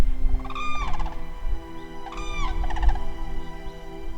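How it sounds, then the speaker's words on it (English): Two loud, rattling trumpet-like crane calls ring out one after the other over a low background rumble. "that's when I hear the sound of the cranes"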